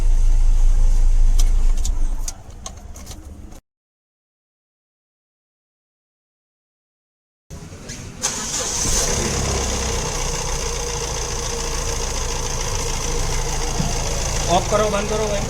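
Honda Amaze car engine running during an engine-mounting vibration check, a steady close idle hum that cuts out for a few seconds and then restarts, louder and continuing with some rattly vibration.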